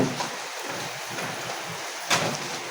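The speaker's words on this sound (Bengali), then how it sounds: "এই যে বৃষ্টি হচ্ছে, দেখেন" Midday rain falls in a steady, even hiss, with a brief louder splash near the end and no speech.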